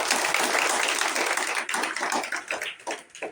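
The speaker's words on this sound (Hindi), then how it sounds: "आप सभी से अनुरोध करूंगा, आग्रह करूंगा, एक बार तालियों से उनका जोर से स्वागत करें।" Warm applause from a village gathering greets a guest speaker, a dense patter of many hands that holds steady, then thins into scattered claps toward the end.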